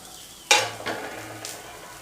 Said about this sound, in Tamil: இஞ்சி எல்லாத்தையும் சேர்த்து ஒரு ரெண்டு நிமிஷம் வதக்கிக்கலாம்